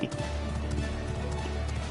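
A horse trots along in Final Fantasy XIV, its hooves clip-clopping steadily in a quick, even rhythm over a continuous low game ambience, with no voices.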